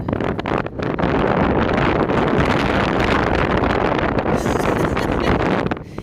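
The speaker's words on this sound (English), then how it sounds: "Listen to that wind." Strong desert wind in open Arizona country, a loud continuous roar buffeting the microphone for several seconds before easing slightly at the end.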